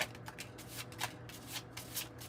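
A tarot and oracle card deck being shuffled by hand, a quick series of soft riffling, flapping card bursts close up and quiet, with no talking.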